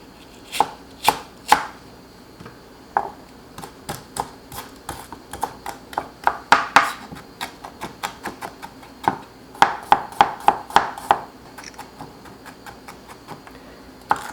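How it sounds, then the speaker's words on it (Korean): Knife finely julienning green onion on a cutting board, a steady run of crisp, close chopping taps with short pauses, heard alone without talk. "대파는 곱게 채쳐주세요"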